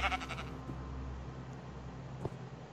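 A Minecraft sheep bleats once in a short, wavering burst at the start, followed by quiet game ambience with a soft thud near the end.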